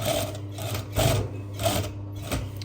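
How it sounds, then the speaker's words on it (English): A sewing machine stitches binding along a fabric edge in quick bursts, pausing briefly between runs, close and fairly loud with no talk. "And then you're sewing right on the edge."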